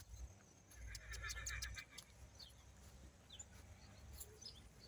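A mare whinnies in a farm setting, a clear, moderately distant neigh with a few hoof clops and faint birdsong around it, quiet overall.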